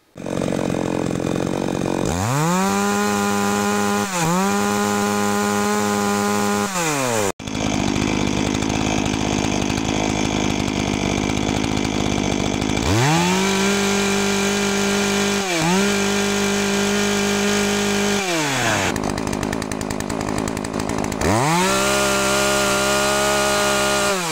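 Three chainsaws of differing designs (Demon, Solo, Holzfforma) rev one after another to maximum speed with no load, each loud, close whine rising, holding steady with brief dips, then dropping back to a rough idle between runs.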